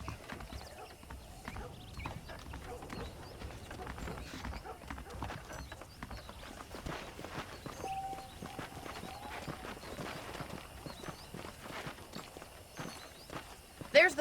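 Horse hooves clip-clop at a walking pace in Red Dead Redemption, a steady, fairly close patter with a short whinny partway through, under quiet voices.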